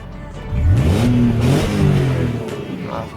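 A BMW M3 E46 engine revs hard, rising and falling in pitch over a low rumble, loud and close.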